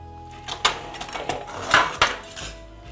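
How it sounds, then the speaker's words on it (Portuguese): A knife chops bacon into small cubes on a cutting board for a quiche Lorraine, a few close, sharp taps and knocks spaced irregularly over a faint background hum. "nós vamos precisar cortar o bacon em cubinhos"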